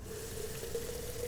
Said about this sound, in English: it's literally just a water bottle getting filled